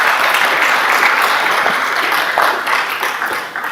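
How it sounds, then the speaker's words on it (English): At a Cleveland ISD school board meeting, the audience gives the Teachers of the Year one more round of applause, a loud, sustained patter of many hands that tapers off slowly near the end. "Let's give them one more round of applause."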